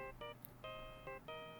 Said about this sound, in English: you still got the Steel Samurai ringtone